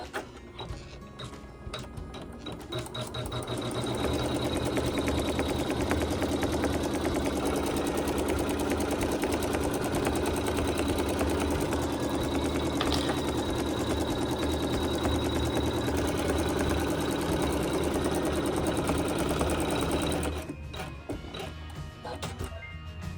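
An embroidery machine stitches a placement line onto batting in a long, even run of rapid mechanical stitching with a fast, steady rhythm, close and continuous for about fifteen seconds before stopping.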